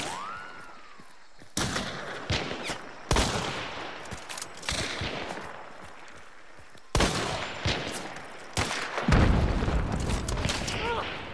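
Bursts of gunfire from a shooter video game, with loud sharp shots, rapid volleys and a few heavy thuds crowding the whole stretch while excited players talk over the action.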